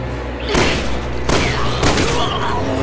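Loud, rapid bursts of gunfire from the video game Resident Evil 6 hit a character, several volleys layered with booms and rumbling game effects, dense and close throughout.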